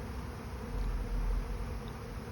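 A swarm of honey bees arriving at a hive makes a thick, continuous buzz that swells slightly midway, close and steady, with no voices.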